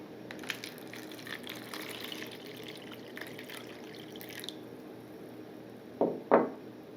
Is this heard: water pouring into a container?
yes